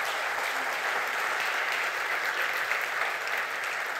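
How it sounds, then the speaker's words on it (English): Audience at a developer conference talk about shipping a Mac Catalyst app bursts into steady, even clapping, a continuous mid-distance patter of many hands that holds without pause. "Now you can clap."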